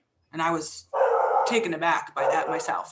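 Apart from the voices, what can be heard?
dog barking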